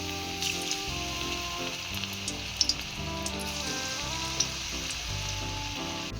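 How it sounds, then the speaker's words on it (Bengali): Batter-coated cauliflower florets drop into hot oil in a wok, making a loud, crackling sizzle with scattered pops and faint splashy patter, steady and close, with no talking. "যেই ফুলকপিগুলো আমি কোট করে রেখেছিলাম সেইগুলো এখন আস্তে আস্তে আমি তেলে দিয়ে দিচ্ছি।"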